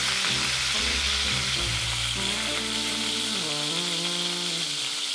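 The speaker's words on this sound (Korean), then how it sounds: "껍질 쪽의 색이 이 정도로 노랗게 났다면 뒤집어서 살쪽면도 살짝만 익혀주고요" Chicken pieces fry skin-side down in a hot pan, browning for a chicken fricassee. A loud, continuous sizzle and crackle of fat stays close throughout, with no talking.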